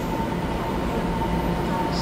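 An EMU train rolls through a Taiwanese railway station, a steady close rumble of wheels and motors with a faint tonal hum, heard continuously throughout.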